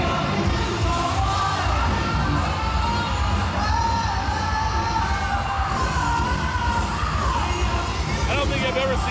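A huge crowd packs Fremont Street in Las Vegas, with a constant loud hubbub of chatter, shouts, whoops and cheers filling the whole stretch, voices near and far blending into one dense roar.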